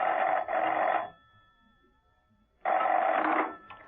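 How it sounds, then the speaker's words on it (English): In a radio drama, a telephone rings in two long, loud bell bursts with a quiet gap between them, standing alone without voices. "Steed rang Mrs. Peel at her apartment."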